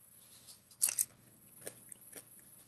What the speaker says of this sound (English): I've never seen somebody bite a pepper like that